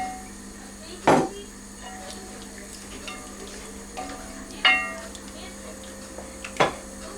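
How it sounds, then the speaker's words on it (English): Palm oil stirred in a pot for Nigerian okro bitter leaf soup: low background sizzle broken by a few sharp clinks and scrapes of the spoon against the pot, irregularly spaced. "Palm oil. And I'll stir it."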